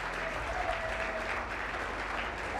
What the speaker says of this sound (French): je veux que vous applaudissiez encore une fois de plus